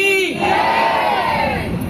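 A loud crowd roars a devotional jaikara chant to Durga Mai at a religious storytelling gathering, one big sustained collective shout.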